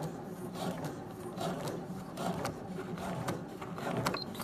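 A sewing machine runs a straight stitch through fabric, a steady close mechanical whirr of needle strokes lasting the whole moment with no voice.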